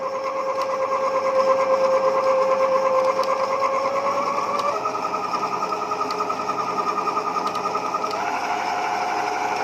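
An Ariete 1500 W dough kneader motor whines steadily and loudly up close, its pitch stepping up as the speed setting rises, with a slight rhythmic rattle and no voices.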